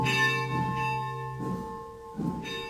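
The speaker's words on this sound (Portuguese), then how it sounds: "mete bronca no sino" A church bell rings out before a Sunday Mass, three resonant strikes whose long metallic tones hang and fade between hits.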